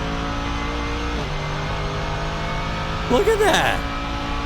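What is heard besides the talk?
Mercedes GT3 race car chasing Audi R8 GT3 at Nürburgring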